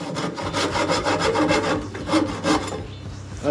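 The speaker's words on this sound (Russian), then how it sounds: "Чистый рез получился чистовой пилкой." A fine-cut hand saw draws back and forth through wood for a pair of stilts, a loud, close, steady rasping rhythm of about a dozen strokes with no talk.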